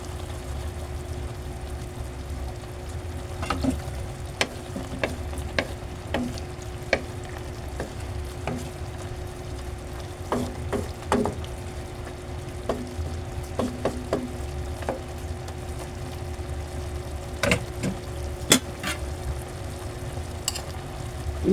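Chicken liver and gizzard adobo simmers and sizzles steadily in a pan, with frequent clinks and scrapes of a utensil stirring through the bubbling, close and fairly loud, no talking.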